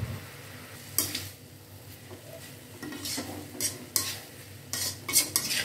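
Utensil scraping and stirring noodles in a pan, with irregular metallic clinks and a soft sizzle underneath, close by and fairly quiet.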